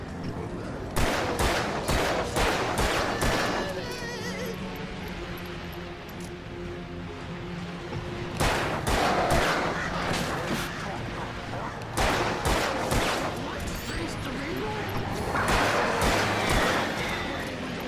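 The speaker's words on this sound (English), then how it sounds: "Flare gun immediately." Repeated bursts of loud gunfire and flare-gun blasts in the horror video game Alan Wake, arriving in dense clusters of sharp shots with heavy booming tails, several volleys across the stretch, with a voice talking over parts of it.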